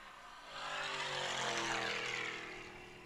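A 2014 Ford Mustang GT500 convertible races past at high speed on an open road during a timed open-road challenge, its engine roar swelling as it nears, peaking and then fading with a clear pitch drop as it passes.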